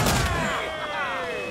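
Ship cannon fire in the video game Assassin's Creed 4 Black Flag, a loud booming blast at the start that decays into a ringing, tonal rumble.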